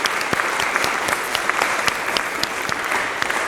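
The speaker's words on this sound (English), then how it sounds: "Please join me in another round of applause for our speakers." Sustained, dense applause from the audience at a Canadian Journalism Foundation conversation fills the room, with many hands clapping evenly and a few sharper claps standing out throughout.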